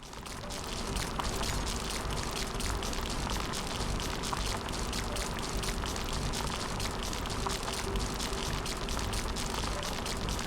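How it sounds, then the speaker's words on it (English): Rain falling in The Riftbreaker video game: a steady, even hiss of dense droplets that runs unbroken throughout at moderate level, with no voices. "It's raining. It will decrease the output from solar panels until it stops."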